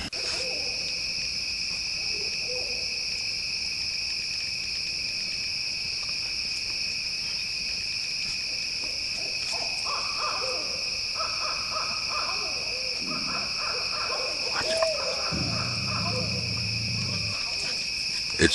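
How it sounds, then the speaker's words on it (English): Owls hoot repeatedly in woods at night over a steady, loud chorus of crickets and insects, the calls coming from fairly close overhead with brief gaps between bouts. "The owls are going crazy right over us"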